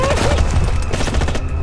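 Sustained loud gunfire in the Rainbow Six video game, a dense, continuous barrage of shots layered with blasts and game noise from start to finish.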